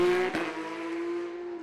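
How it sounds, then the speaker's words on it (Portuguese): A Porsche rally car engine drones at a steady, sustained pitch at a Lisbon rally super special stage, with a brief sharp crackle near the start and again at the end. "os Porsche ecoam mesmo o motor."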